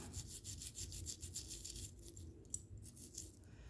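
A spiritual jewelry piece and its chain are scrubbed clean, giving a steady rhythmic brushing and rubbing noise, close and fairly faint, with no talking.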